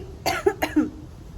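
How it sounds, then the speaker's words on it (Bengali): A short run of three or four dry, close coughs in quick succession, followed by quiet. "আর এই কাশি হচ্ছে"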